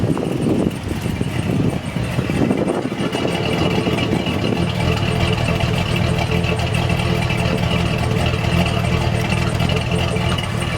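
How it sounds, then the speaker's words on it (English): A Chevrolet Silverado pickup engine with a stock camshaft and 284K miles idles steadily nearby with a low, even rumble that holds throughout. "In case you were wondering what a cam Silverado, stock cam Silverado sounds like."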